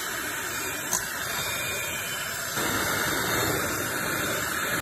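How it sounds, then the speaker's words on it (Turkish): An electric mixer whips egg whites at high speed for a chocolate fondant: a steady, dense whirring drone that grows louder and fuller about halfway through, with no voices. "Beyazlarını mikserde yüksek volümde çırpmaya başlıyoruz."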